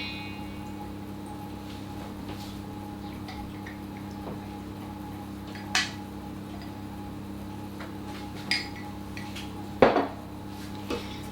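Cake batter for a Dorset apple cake is mixed in a bowl, with a quiet background and a few sparse, sharp clinks of a utensil against the bowl, no talking.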